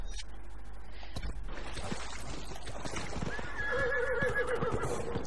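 In the video game Dragon Age: Inquisition, hooves clop briefly as a horse is ridden, then the horse whinnies loudly with a wavering neigh near the end.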